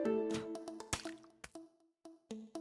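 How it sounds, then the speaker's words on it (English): Butter hitting a zombie in Plants vs Zombies: a run of quick wet squishy splats and drips, several sharp hits spaced irregularly, close and clear. "the sound of the butter hitting is somehow very satisfying"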